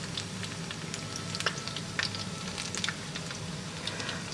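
Apple fritters sizzle and crackle quietly in hot oil in a frying pan, a soft steady fry with scattered sharp pops, no talking.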